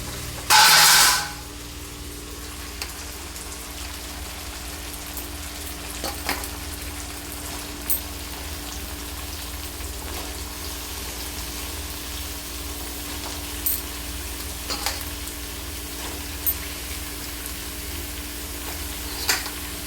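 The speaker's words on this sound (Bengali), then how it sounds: "এই পর্যায়ে আমি দিয়ে দেবো কেটে রাখা লাউ" Cut bottle gourd drops into a pan of spice paste with a brief loud burst of sizzle, then settles into a steady low frying hiss marked by occasional faint clicks of stirring.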